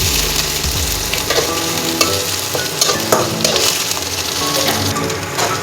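Onion and garlic fry loudly in a pan for a soybean curry, a dense close sizzle with constant scraping and stirring of the spatula and no voices.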